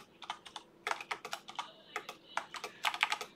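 Code for a video game being typed on a computer keyboard in rapid, close, crisp keystrokes, arriving in several bursts with short pauses between them, with no talking.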